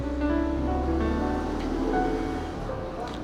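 Sea waves at Cox's Bazar beach wash in with a steady, continuous surf roar, fairly close and loud, with faint wind and distant beach noise throughout.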